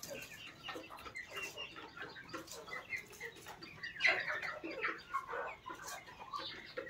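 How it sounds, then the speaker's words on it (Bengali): Egg-laying hens on a rural homestead cluck in a steady chatter of short, close calls, with a few louder squawks midway and no talking. "আর এই ডিম পাড়া মুরগিগুলো তো আছে, 4-5টা আছে।"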